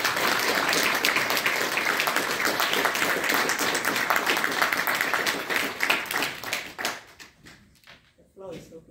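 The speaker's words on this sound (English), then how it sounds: "let's give her a round of applause again" An audience at the Tuskegee University Ralph Ellison Lecture Series applauds Dr. Keturah Nix after her lecture, with vigorous, sustained clapping that cuts off after about seven seconds, followed by a few stray sounds and quiet.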